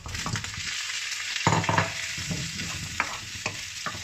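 Squash pieces go into a hot frying pan for pinakbet and are stirred, giving a steady sizzle with repeated scraping and clacking strokes of the utensil against the pan.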